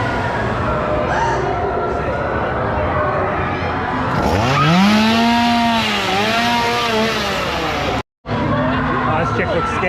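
Chainsaw inside a Halloween Horror Nights haunted house, the engine revving up and down in loud rising and falling whines over crowd noise and chatter, briefly cutting out before resuming.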